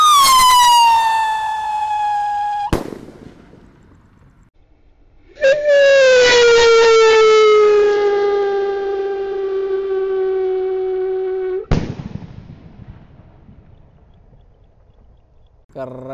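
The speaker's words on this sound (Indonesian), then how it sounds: "Sudah menyala roket Piro Thor." Thor Roman Candle Piro blue firework rocket launching, two long loud whistling shrieks that slide downward in pitch, each ending in a sharp bang, with a short quiet gap between them and another crack at the end.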